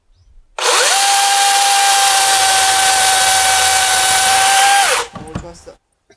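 A DeWalt DCM575 cordless chainsaw cuts firewood close by with a loud, steady high-pitched motor whine lasting several seconds. It then winds down abruptly, followed by light knocks.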